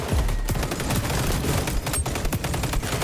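Rapid gunfire bursts from the shooter video game XDefiant, loud and dense, a continuous fusillade of shots hammering against a shield over about three seconds, with no clear talking on top.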